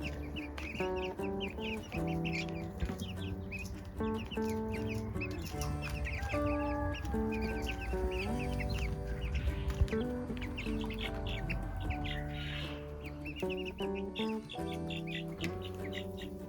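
Young chicks in a newly enlarged backyard enclosure cluck and peep steadily throughout, with many overlapping calls close by, under a constant bed of music or background tones.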